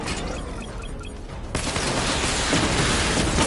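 A missile barrage launches in a PS4 action game: after a quieter stretch, a sudden loud, dense wall of rapid firing and blasts erupts and keeps roaring steadily to the end.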